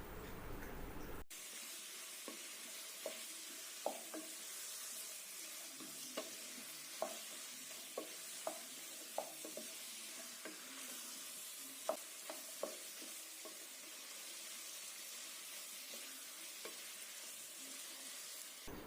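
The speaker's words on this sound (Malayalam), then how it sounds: "ഇനി ഒരു മീഡിയം ഫ്ലെയിമിൽ ഇതെല്ലാം കൂടെ ചേർന്നൊന്ന് വഴറ്റണം." Chicken with onion, ginger and garlic stir-fries over a medium flame, a constant soft sizzle with scattered spoon clacks and scrapes against the pan, steady and fairly faint throughout.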